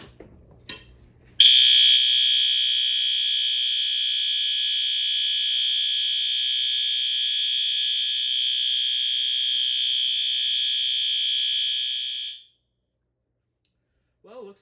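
System Sensor L-Series ceiling-mount fire alarm sounding a loud, steady high-pitched tone for about eleven seconds before cutting off, preceded by brief handling clicks.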